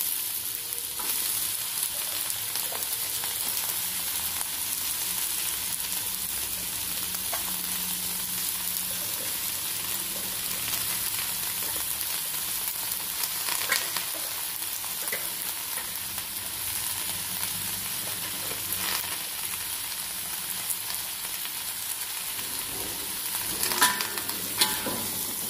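Pagoda greens stir-fry in a wok with egg and shrimp, a loud constant frying hiss throughout with occasional scraping and stirring clicks, no talk.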